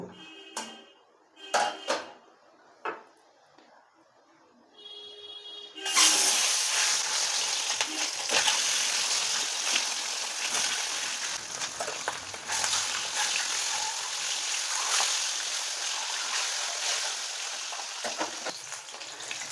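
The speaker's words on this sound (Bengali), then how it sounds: "তেলটা খুব ভালো করে কিন্তু গরম হয়ে গেছে। এবার আমি ডিমগুলোকে ভেজে নেব।" Eggs are dropped into hot oil in a pan and fry with a loud, steady sizzle and crackle, preceded by a few sharp clinks and taps.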